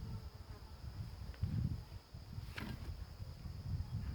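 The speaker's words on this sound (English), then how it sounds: "There's just the noise of a bug trapped there for some reason." A trapped insect such as a bee buzzes steadily close by, its drone rising and falling over a few seconds with a brief louder surge in the middle, alone and without talk.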